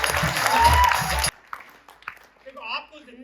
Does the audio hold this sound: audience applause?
yes